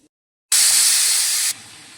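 A pressure cooker full of chickpeas suddenly vents steam in a loud, sharp hiss that holds for about a second, then drops to a quieter lingering rush.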